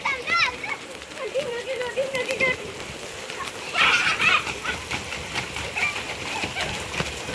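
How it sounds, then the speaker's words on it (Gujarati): Steady rain hisses and splashes outdoors while children shout and chatter playfully in the background. "સરસ વરસાદ આવી ગયો છે"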